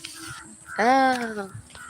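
A crow gives a single harsh caw lasting about a second, loud and close, set against faint background voices.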